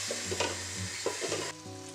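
Onion and carrot sautéing in a pan for a vegetable soup with chicken broth, a continuous soft sizzle with a few stirring scrapes, close by and without voices.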